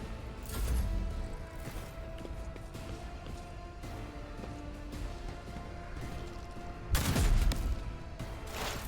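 Gunfire in the Rogue Trader video game: a sharp burst near the start and a heavier volley around the seventh second, set against a steady bed of game ambience.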